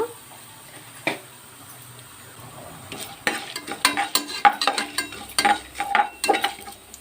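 Mustard seeds, chana dal and urad dal crackle in hot tempering oil with a steady sizzle, then a burst of sharp pops and spatters that grows denser and louder over the last few seconds, with a spoon clinking against the pan.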